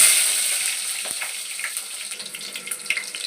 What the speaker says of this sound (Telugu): ఆయిల్ వేడైంది. ఇప్పుడు ఆనియన్స్ వేసుకుందాం.